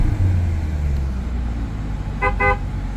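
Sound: Chevrolet Corvette Stingray 6.2 liter V8 engine

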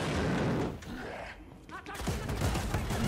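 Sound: pistol gunfire in the video game Wolfenstein: Youngblood

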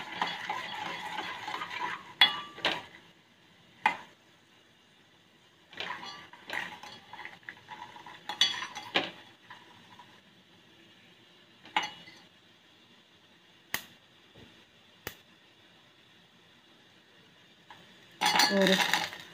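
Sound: frying peanuts in oil, stirring pan

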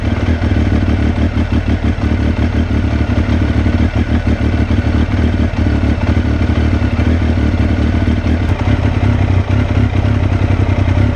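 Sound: Triumph Daytona T595 motorcycle engine running to warm up

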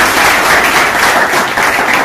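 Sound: audience clapping applause

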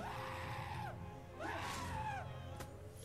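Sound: character screaming in MediEvil remake video game

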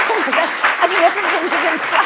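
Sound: audience applause

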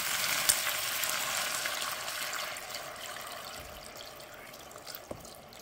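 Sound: guinea fowl pieces frying in a pot

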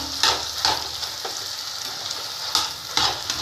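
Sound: potato filling frying and stirred in frying pan

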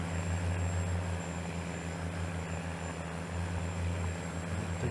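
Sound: 800 horsepower tractor engine in Farming Simulator 19 video game

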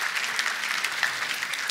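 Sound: audience applause

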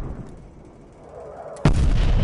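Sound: artillery fire in the video game Call of Duty Cold War

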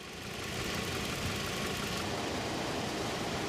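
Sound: car engine idling roughly

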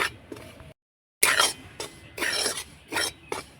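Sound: stirring rice flour while dry-frying in pan

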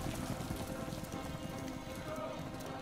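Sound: rain hitting the ground in Modern Warfare 3 video game

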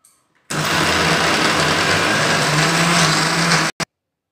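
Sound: mixer grinder grinding green peas into coarse paste

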